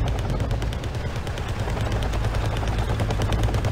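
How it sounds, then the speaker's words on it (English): A Cobra attack helicopter in the game Team Yankee fires TOW missiles in a loud, dense burst of rapid firing over a low rotor rumble, with no voices. "my Cobra is firing tow missiles"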